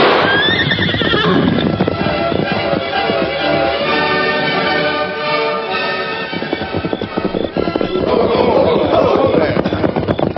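A horse lets out long, shrill whinnies up close, with hoof clatter and commotion mixed in, the neighing rising again toward the end.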